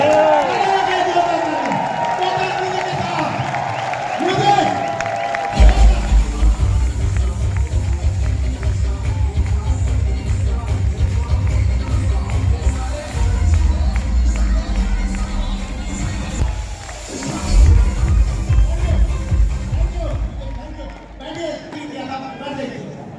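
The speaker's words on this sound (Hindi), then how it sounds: "तालियां बजाओ डायरेक्ट सेलिंग इंडस्ट्री" A crowd at a direct selling business event cheers loudly after a stretch of voices over a hall PA, with a sustained, dense roar of claps and shouts that rises and falls before easing toward the end.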